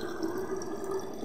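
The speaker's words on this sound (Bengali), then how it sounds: "এই দেখো দুটো বোতল ভরা হয়ে গেল আর এই আর একটা বোতল আছে এটাও ভরবো" Water trickles steadily into a bottle being filled in a home kitchen, a faint continuous pouring with slight dripping texture, close and quiet with no voices.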